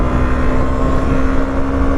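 Husqvarna Svartpilen 125 motorcycle running steadily up close, with a constant engine drone and a slight pitch step midway as the throttle cuts and a gear snaps in before the revs pick back up.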